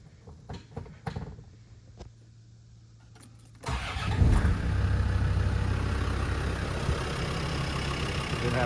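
A performance-tuned Land Rover Defender 90 TD5 diesel cranks and fires after some quiet clicks and handling noises, then settles into a loud, steady, close-up idle with a low rumble.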